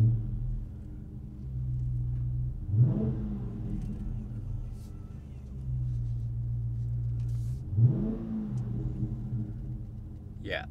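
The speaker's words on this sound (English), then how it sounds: "So let's hear that monster engine." A 2018 Dodge Charger R/T Scat Pack muscle car idling with a deep, loud rumble, then revved twice, each throttle blip sweeping sharply up and falling back to the idle burble.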